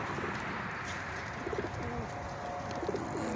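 Pigeons coo outdoors in short, repeated soft bursts over a steady background of wind and ambient noise, with no one speaking.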